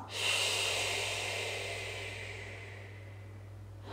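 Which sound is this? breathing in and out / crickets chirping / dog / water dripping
breathing in and out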